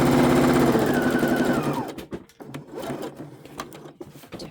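A sewing machine stitches fabric for a tea bag holder, running loud and steady for about two seconds, then falling to quieter, irregular clicks and handling noises.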